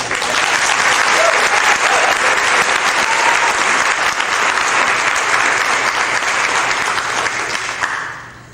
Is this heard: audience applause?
yes